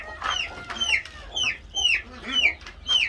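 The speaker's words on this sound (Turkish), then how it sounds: "Mesela horozlarım var." Chickens and roosters clucking repeatedly nearby, a steady run of sharp, rising calls every half second or so over faint background noise.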